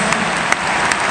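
Football crowd at an Arsenal versus Chelsea match applauding a substituted player, a steady dense wash of clapping from a large stadium audience with a few sharper claps standing out.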